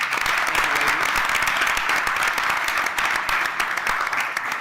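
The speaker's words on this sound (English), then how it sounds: "So give them a round of applause." Sustained applause from an audience at a school board meeting, dense steady clapping filling the whole stretch at a loud, even level with no pauses or voices breaking through.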